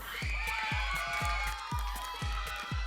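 A game-show studio audience cheers and shouts over a steady thumping music beat, the crowd noise loud and continuous for the whole stretch.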